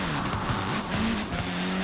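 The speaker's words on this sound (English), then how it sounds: "Do a drift around this corner." Lamborghini tires squealing as it drifts around a corner in Forza Horizon 4, a steady rising-and-falling screech under a continuous engine roar, loud and close for the whole moment.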